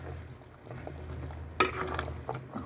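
Okra dropped into a frying pan, with a faint hiss and stirring before a sudden louder sizzle as it hits the hot oil, heard close and quiet, no voices.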